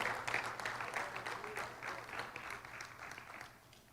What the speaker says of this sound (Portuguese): Se você acredita, bata palmas